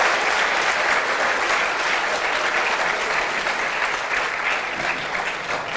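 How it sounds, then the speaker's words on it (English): Steady, sustained applause from a live audience at an esports StarCraft II winners' bracket final, dense and continuous throughout with no pauses, filling the hall at an even loudness. "Give him another big round of applause now that he can actually hear you."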